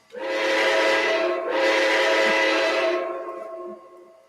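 A train whistle sounds in two long blasts, the second following right after the first, bright and breathy with sustained harmonic tones, fading at the end.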